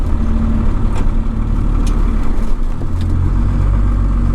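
A 1993 Dodge Cummins W250 diesel truck driving on a rough ride, its engine a loud, close, steady low rumble with occasional rattles and clunks from the cab.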